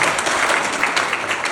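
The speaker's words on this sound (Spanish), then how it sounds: "Un aplauso para Natalia." Audience applause at a talk on public speaking, a dense steady wash of many hands clapping throughout, fairly loud and without pauses.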